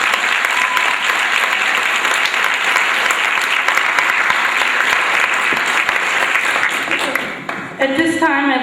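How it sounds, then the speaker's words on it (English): A banquet crowd at an FFA chapter event applauds its newly named officers, loud, steady clapping that holds for about seven seconds before a voice cuts in near the end. "Please give these guys a round of applause"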